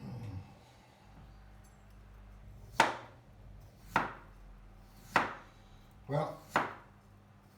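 Potatoes being sliced thinly for gratin dauphinois, with a knife striking the board five times in sharp, close cuts a second or so apart and the last two coming quicker. A voice speaks briefly at the start.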